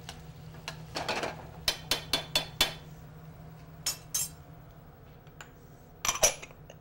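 A utensil stirs macaroni dishes in a pan, tapping and scraping the metal in quick bursts of clinks with pauses between, close but fairly quiet over a low steady hum.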